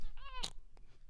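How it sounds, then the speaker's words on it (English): A pet cat named Cleo gives a single short, rising-and-falling meow, close and fairly soft, followed by a faint click and quiet room noise. "it's my cat Cleo"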